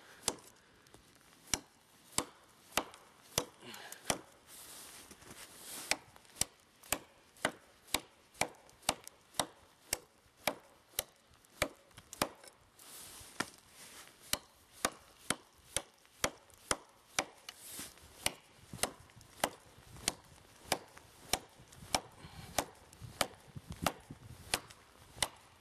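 A blade chops repeatedly into a large piece of wood outdoors while snowshoeing, sharp close thwacks landing in a fairly steady rhythm of around two per second, with a few louder strikes among them.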